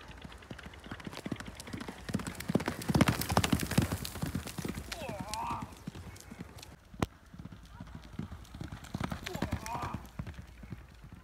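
A horse gallops with clip-clopping hooves at an international tent pegging contest with swords, the hoofbeats steady and close under loud commentary and crowd chatter, with a brief whinny-like sound midway.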